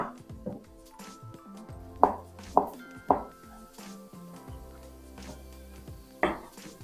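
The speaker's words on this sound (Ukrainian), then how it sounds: "Куряче м'яско наріжу смужками" A knife slices raw chicken into strips on a cutting board, a handful of distinct, irregular taps and thuds spaced a second or so apart in a quiet kitchen.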